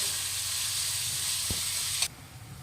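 Onions sizzling steadily in a hot pan, a loud continuous hiss that runs for about two seconds, broken by one brief knock midway, before dropping to a quieter simmer.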